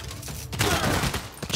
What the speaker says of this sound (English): Okay, machine gun.